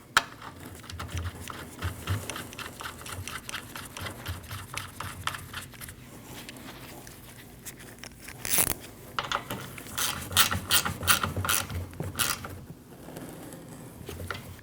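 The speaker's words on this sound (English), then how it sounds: "Now you can install your 8mm bolt and tighten it down." Ratchet tightening an 8mm bolt during a radiator install on a 2013-2019 Ford Escape 1.5L, quick faint clicking in short bursts with small metallic knocks, close and quiet, with no talk.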